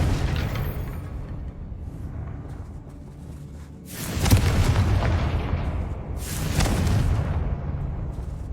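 Two deep, rumbling booms from the Confringo fire spell in Hogwarts Legacy, each a loud burst that swells and decays over a low continuous game rumble.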